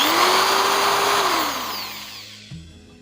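A 300-watt home electric drill with 10 mm chuck capacity, rated around 2600–2800 rpm, whines loudly at steady speed, then spins down and stops, with a small click near the end.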